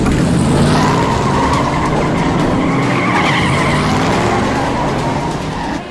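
NASCAR race cars skid away in a staged film scene, tires squealing loudly over a dense, continuous engine roar that stays close and heavy throughout before easing slightly at the end.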